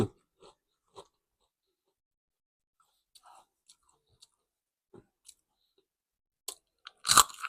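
Someone eats crunchy mixed-flavour rice crackers that have stayed crisp two days after opening. Quiet, sporadic bites and crunches come close to the microphone amid near silence, building to a louder cluster of crunching at the end.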